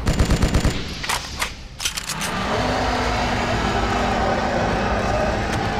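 Gunfire in the BloodRayne video game: a rapid burst of loud, close shots at the start, a few scattered cracks after, then a steady mechanical rumble.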